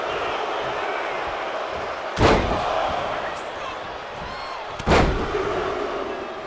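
Two heavy body slams onto a wrestling mat in WWE 2K26, CM Punk against JBL with a backdrop, land as sharp thuds a few seconds apart over a steady crowd roar, with commentary talk beneath.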